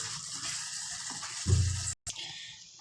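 Water poured from near by into a pan of chicken curry, a soft steady splashing pour that swells briefly into a fuller gush, stops for a moment, then trickles on faintly.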